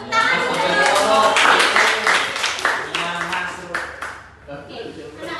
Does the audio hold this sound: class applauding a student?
yes